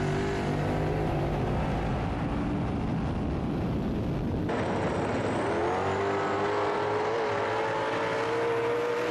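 Ford Falcon drag car accelerating hard after a gear change, a loud continuous engine roar whose pitch drops at the shift and then climbs steadily as it pulls, close and dense with no voices.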